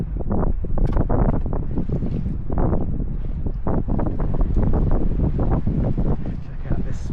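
Chilly coastal wind on Guernsey buffets the microphone in steady, loud rumbling gusts.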